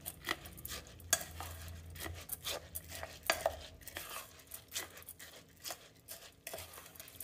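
Jackfruit sticky rice being stirred together with a little coconut milk in a bowl, giving soft, irregular scraping and clinking from the utensil against the dish, with steady mixing sounds and no talk.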